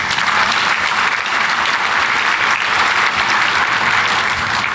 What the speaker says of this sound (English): a huge round of applause for everyone who is in this room right now.